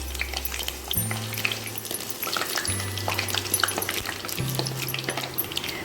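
Two dried red chillies fry in a pan on top of ingredients already roasted, giving a steady crackling sizzle with occasional stirring scrapes, close by, with a low hum shifting in steps underneath.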